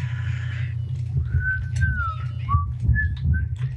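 Clear human whistling of short melodic tones rising and falling, heard in Minecraft 1.8 gameplay over a steady low hum and faint background noise.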